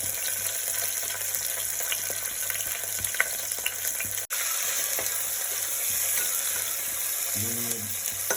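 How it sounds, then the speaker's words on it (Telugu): Spices and cashews fry in ghee in a pot for bagara chicken, giving a steady close sizzle with a few stirring scrapes and clinks and a brief utensil knock near the end; no one speaks. "ఇంతకుముందు చూయించుకున్న మనం స్పైసెస్ అన్నీ ఇందులో వేసేద్దాం ఇప్పుడు కాజు కూడా వేసేద్దాం"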